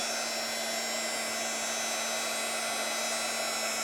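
A heat tool blows steadily to melt Utee embossing powder on a mixed media card case, a loud continuous electric whir with a constant hum that holds unchanged throughout, with no voices.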